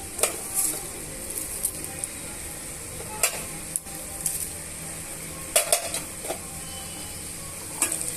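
Potato pieces fried with dried red chillies and curry leaves in a pan, giving a steady sizzle broken by scraping stirs and clinks of a spoon against the pan every few seconds.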